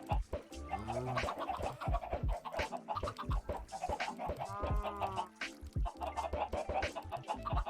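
Chickens in a blocky modded survival video game cluck and squawk repeatedly at close range, a busy overlapping flurry of short calls that continues throughout.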